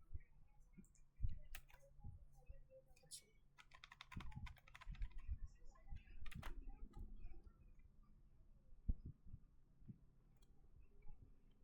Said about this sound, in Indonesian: Oke, kita coba ketik.